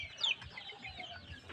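Desi chickens kept free-range, giving soft scattered clucks at close range, with one brief sharper high call near the start and otherwise quiet low murmuring.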